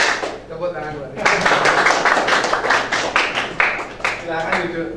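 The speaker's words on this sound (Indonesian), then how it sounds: "Tepuk tangan buat ini." A group of students claps hands together in a classroom during a concentration clapping exercise in an Indonesian teacher-training practice lesson. A voice speaks briefly first, then a dense, steady burst of near, loud clapping runs for several seconds.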